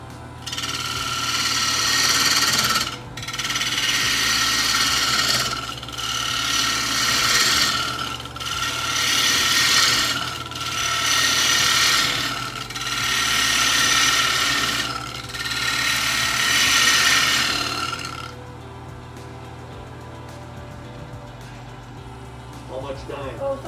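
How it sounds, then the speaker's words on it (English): A half-inch bowl gouge cuts a tenon on a wood bowl blank spinning on a lathe, giving steady loud rasping passes broken by brief pauses over a constant motor hum, then the cutting stops near the end. "For that operation, we'll use a 1/2-inch bowl gouge."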